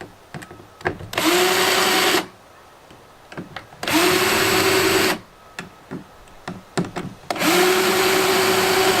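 A power drill drives screws into a Hobie Outback kayak in three loud whirring bursts, each winding up to a steady pitch before stopping, with small clicks and handling knocks between them.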